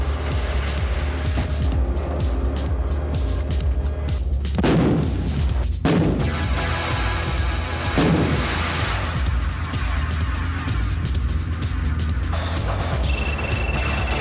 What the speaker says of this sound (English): South Africa's massive G6 howitzer, which employs a semi-automatic loader that can fire up to 4 rounds per minute.